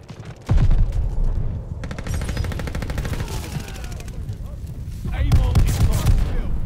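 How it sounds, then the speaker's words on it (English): Shotgun blasts in a shooter video game boom out in quick succession, loud and close, with a dense clatter of game effects between the shots. "this shotgun is so much fun to use"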